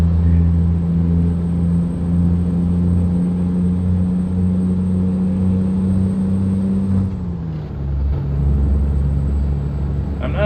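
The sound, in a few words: truck gears grinding while shifting in American Truck Simulator video game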